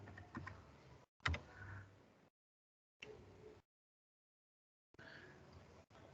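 Someone types a new IP address on a computer keyboard while configuring a router, giving short bursts of soft key clicks separated by silent gaps.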